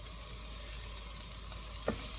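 Vegetarian egg roll filling of mixed vegetables fries in a pan, a steady low sizzle with soft hiss, plus a single brief utensil knock toward the end, no talking.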